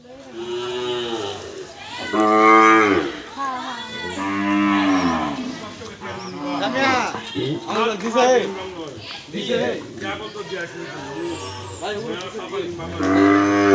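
Cattle moo repeatedly, in long, loud, drawn-out calls during a free vaccination drive run by the local livestock office, while people talk and shout nearby.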